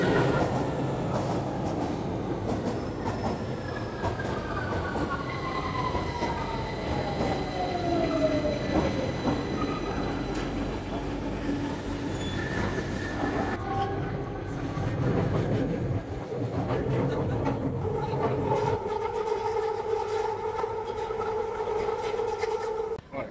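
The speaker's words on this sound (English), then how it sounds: "the train is coming in 1 minute" London Underground train pulling into a station near Wood Green, with rumbling wheels, rising and falling motor whine and squeal, then a brief drop as it stops and tonal beeps or door chimes sound.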